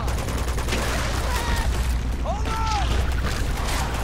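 Gunfire in Uncharted, rapid bursts of shots and booming blasts under constant in-game noise, with someone talking over the action.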